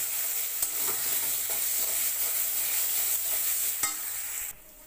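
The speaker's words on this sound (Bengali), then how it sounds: "এপাশে মশলাটা আমার ভালো করে কষাতে থাক।" Spice paste sautéing in a pan makes a steady close sizzle with a few spatula knocks, then cuts off abruptly near the end, with no talking.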